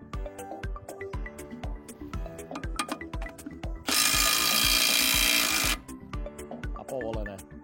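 A Milwaukee M12 impact wrench loosens M22 wheel bolts: a loud close burst of rapid hammering lasting nearly two seconds, framed by clicks, clanks and handling noises of tools and parts, with background music throughout.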